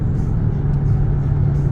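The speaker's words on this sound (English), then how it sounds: "I can actually hear a little bit how that echoes out the back of this car" Steady low exhaust drone from a car in track mode, a loud, close, continuous rumble with a faint hollow echo trailing out the back, no voices.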